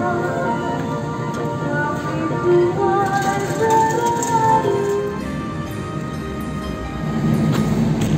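A steady low rumble and rattling heard from inside the economy carriage of the Kamandaka passenger train in Indonesia, with faint clatter and creaks throughout.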